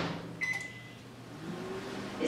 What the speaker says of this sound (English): Is someone using the microwave?